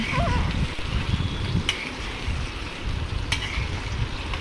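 Eggs stir-fried in a pan, a loud continuous sizzle with scraping and stirring noises throughout and a couple of brief clinks, with no talk.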